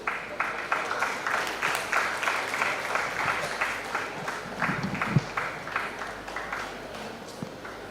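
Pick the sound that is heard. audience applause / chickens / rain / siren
audience applause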